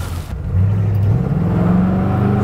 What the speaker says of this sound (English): Spinning tires. There it goes,